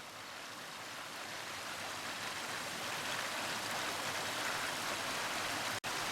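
Small waterfalls trickle down a Lake District fell, giving a steady, even rush of falling water that continues unbroken, broken only by one brief tap near the end.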